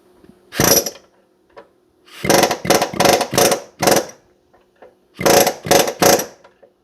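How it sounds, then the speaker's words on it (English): A power grinder cutting down a bolt on a car's lower control arm, in short bursts: one quick pass, then a rapid cluster of four or five, then three more, loud and close with brief quiet gaps. "So I'm just going to grind it down a tiny bit more."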